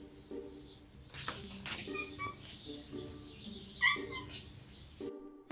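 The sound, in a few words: cat meowing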